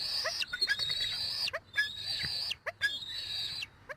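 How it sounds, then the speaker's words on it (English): Eagle fledglings in a nest give high thin chirping calls, three drawn-out whistled cries with short chips between them, fairly near over a low background hum. "The little chirping calls,"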